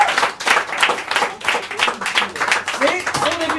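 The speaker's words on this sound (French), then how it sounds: "on peut l'applaudir, on peut l'applaudir" An audience at an improvised theatre show claps in a lively burst of many hands, with a voice talking over the applause throughout.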